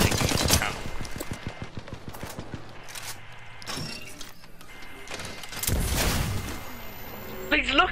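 Gunfire from a match in the shooter game Apex Legends, with several bursts of shots scattered across the clip among other game noises and a speaking voice.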